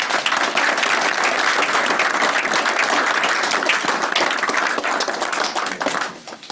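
Audience applause closing a conference talk on hacking planes, trains, automobiles and ships: dense, sustained clapping from a crowd, loud and steady throughout before thinning out in the last second.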